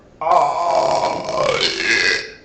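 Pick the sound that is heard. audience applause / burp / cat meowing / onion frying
burp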